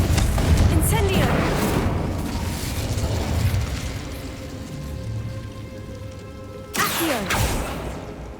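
A fire spell cast in the video game Hogwarts Legacy: a loud, crackling fiery burst with rumbling low end, fading out, then a second sharp whooshing burst near the end, with game voice over it.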